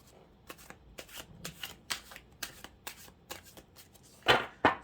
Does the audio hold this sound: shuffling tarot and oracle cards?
yes